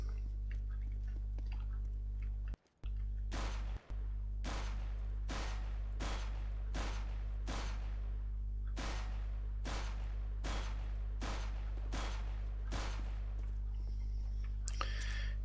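In the video game CS:GO, gunshots from an aim bot ring out at a steady pace, a dozen or so evenly spaced sharp cracks over a constant low hum.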